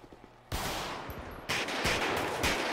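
Pistol gunfire in GTA V heard as sharp shots over a loud, noisy background, one crack after another at short intervals, with no voices over them.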